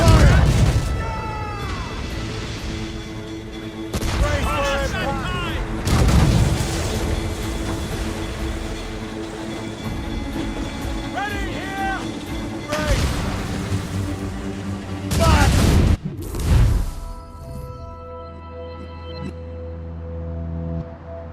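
Ship cannon broadsides fired at sea in Assassin's Creed Rogue, with several loud booming volleys at irregular intervals amid shouted crew voices, creaking and battle din, ending in a big blast followed by quieter rumble.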